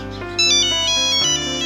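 A mobile phone ringtone plays alone, a bright electronic melody of clear sustained tones that steps up in pitch and loudness after a moment, close and continuous.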